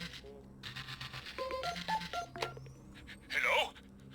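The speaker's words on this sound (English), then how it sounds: "Oh, the phone is ringing." A telephone rings inside the video game Scrap Mechanic, heard as a series of electronic tonal beeps and chirps over a quiet game background, ending in a brighter warbling burst.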